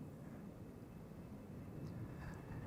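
A KLM Boeing 777-300 departing Amsterdam Schiphol for Sao Paulo gives off a steady, distant broadband jet roar that holds evenly throughout, with no voices.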